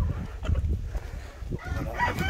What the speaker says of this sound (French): Ouais, là il y a encore des poules, là.